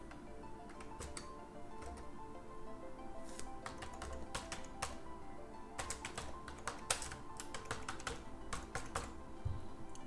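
Dense, steady computer keyboard typing while Salesforce Apex code is written, with close, rapid key clicks and brief pauses running throughout and no talking.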